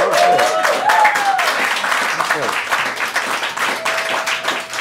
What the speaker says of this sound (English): Let's, let's, give her a round of applause, please